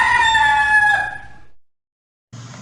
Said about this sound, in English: When we take cock or rooster, we say the cock crows or the rooster